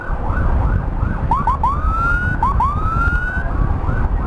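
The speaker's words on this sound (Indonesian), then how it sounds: "Kali ini kita mendampingi satu unit ambulan" An ambulance transferring a patient from a clinic to Kaliwates hospital in Indonesia sounds short yelping siren sweeps in bursts, heard from inside the moving vehicle over a constant rumble of road noise.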